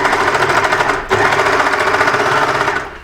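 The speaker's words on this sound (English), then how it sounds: "And I'm just going to overlock that edge that will be seen at the back." Overlocker stitching along the back edge of a Hawaiian style shirt, a steady fast rattling hum running continuously for about three seconds with a brief pause near the start, close and loud with no talking.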